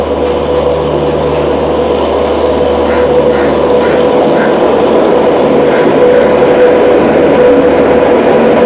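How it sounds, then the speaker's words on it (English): A train runs along the railway, heard from on board as a steady loud rumble with rolling wheel noise and a faint whine, a few soft clicks and clatters rising later. "And we have boarded the train."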